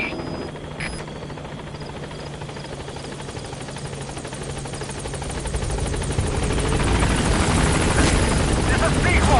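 Helicopter rotor and engine drone from the Metal Gear Solid V video game as it arrives at a landing zone, a steady loud whir that grows louder toward the end, with a radio voice in the background.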